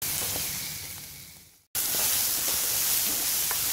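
Steady sizzling and hissing of onion, ginger and garlic sautéing in a pan, briefly cut off then resuming, with faint stirring clicks underneath.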